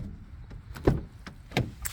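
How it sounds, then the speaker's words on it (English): A 2021-2023 Ford Super Duty truck door closes with soft, muffled thuds, two brief low impacts close by in an otherwise quiet setting. "The way that these doors close, it's entirely different than my old truck. Very, very, very quiet."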